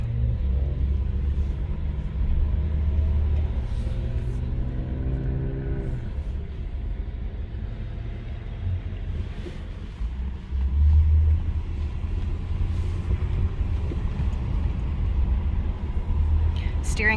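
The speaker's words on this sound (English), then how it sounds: "Taking the 1980 Chevy Malibu out." A 1980 Chevy Malibu car engine rumbles steadily while driving, a low continuous drone with slight shifts in pitch as it runs, close and fairly loud throughout.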